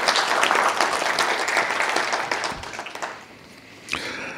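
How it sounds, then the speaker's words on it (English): An audience at an American Indian writers' festival award event gives a round of applause, loud, dense clapping that gradually thins out, with a brief voice or noise near the end. "let's give them one more round of applause"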